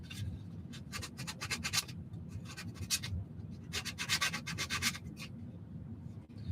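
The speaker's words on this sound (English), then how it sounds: "even just running over it with this sandpaper right now has cut the burr" Sandpaper rubbing along a metal edge of a kit to cut away a burr, in repeated quick bursts of scratchy strokes grouped in two runs, close and fairly loud, without speech.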